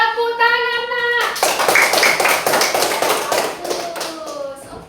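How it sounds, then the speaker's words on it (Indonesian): Children in a classroom clap together in a burst of quick, fairly close hand claps lasting a few seconds, with a voice speaking just before and sounds of talk mixed in. "Iya, tepuk tangan, nak."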